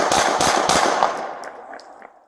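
A rapid string of gunshots fired during a police shooting, loud sharp cracks in quick succession that fade out into a ringing tail, with no talking.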